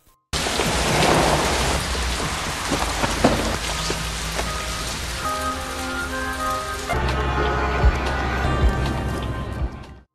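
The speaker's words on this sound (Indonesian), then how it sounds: "Kebetulan hujan deras malam itu." Heavy rain pours down steadily at night, a dense hiss of drops drumming on surfaces. Low rumbles of thunder roll through the downpour, and no one speaks.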